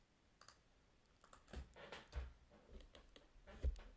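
Quiet, close keystrokes on a computer keyboard while entering a login command, a loose run of soft clicks and taps with no talk.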